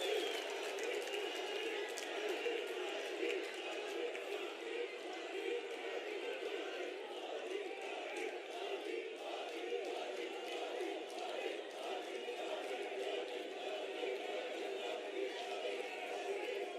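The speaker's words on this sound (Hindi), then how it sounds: "एक बार जोरदार तालियां माननीय प्रधानमंत्री श्री मोदी जी" A large crowd at a Prime Minister Modi event launching development projects in Dehradun claps and cheers in a continuous, roaring wash of noise, with a voice carrying over it.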